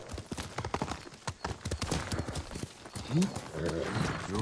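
Hoofbeats of a galloping horse in the samurai game Ghost of Tsushima, a steady, rapid clip-clop close up with a short whinny near the end, over other in-game sound.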